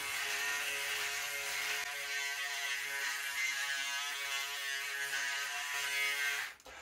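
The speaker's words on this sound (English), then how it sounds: "let's just start shaving with the Braun Series 7 over here" A Braun Series 7 electric shaver buzzes steadily and close at hand as it cuts several days of stubble. The hum stays even and continuous, with no talk, then drops away at the end as the shaver stops.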